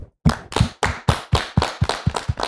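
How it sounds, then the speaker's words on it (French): An audience applauds the guests, a burst of close, loud clapping that stays steady and dense for a couple of seconds. "On peut les applaudir vraiment sérieusement."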